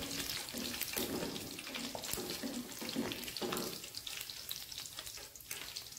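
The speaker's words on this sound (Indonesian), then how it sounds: "Nah kita goreng sisanya tadi karena banyak ya." Meat sizzles steadily as it fries in cooking oil, a continuous close crackle and spatter with a few clinks of utensils.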